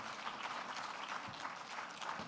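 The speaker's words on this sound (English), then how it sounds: "Let's give another round of applause," Audience applause for a panel of mayors at a university summit, a steady wash of clapping from a seated crowd, moderately distant and sustained without a break.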